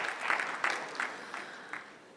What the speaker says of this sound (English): so I think they deserve a round of applause as well